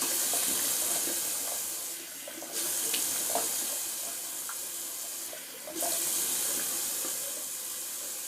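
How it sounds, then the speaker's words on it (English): Cold water runs steadily from a bathroom tap into a sink for a shaving rinse, with a constant hiss and splash that dips briefly twice, close and fairly loud, no talk. "I'm just going to do a quick little cold water rinse."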